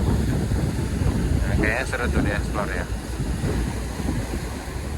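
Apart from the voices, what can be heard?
riverboat Noor Fitri Indah sailing up the Mahakam River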